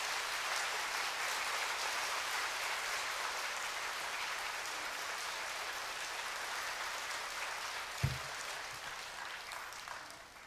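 Steady, dense applause from a church congregation welcoming a pastor to the pulpit, sustained and even throughout with one sharp thump near the end.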